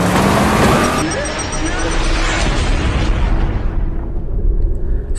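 A missile explosion from the film Death Race, a loud roaring blast with rumbling debris that starts at full force, holds heavy low rumble for several seconds, then thins into a lingering crackling tail.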